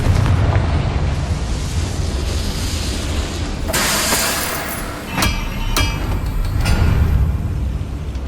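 Confringo fire spell cast in the video game Hogwarts Legacy, bursting in a loud blast near 3.7 seconds, with sharp crackling pops trailing after it over a constant roaring game background.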